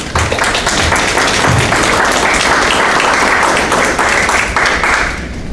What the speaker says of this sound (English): I want you to give yourselves a round of applause because that's amazing